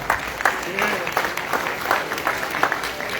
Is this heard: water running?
no